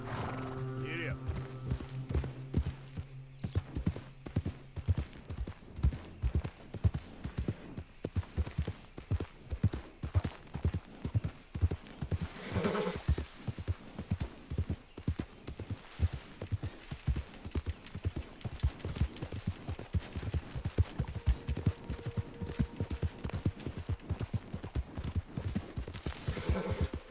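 Horse hooves gallop in Red Dead Redemption 2, a long steady run of rhythmic clip-clop beats, with brief speech near the start.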